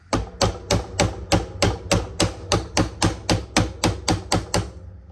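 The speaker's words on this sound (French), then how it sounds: "Et on va le faire à l'ancienne avec un petit coup de marteau." A small hammer strikes about fifteen even, sharp taps in a steady rhythm while fitting a knife blade, each hit close, crisp and ringing briefly.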